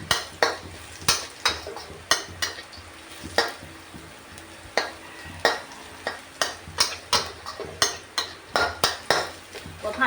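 Chilies being stir-fried in a pan for fried tilapia in three-flavour sauce, with repeated sharp scrapes and clatters of a utensil against the pan in an uneven rhythm over a steady, soft sizzle.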